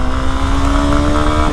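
A Honda Hornet 2.0 motorcycle engine drones loudly and steadily at close range as it accelerates, a continuous buzzing tone with no gaps.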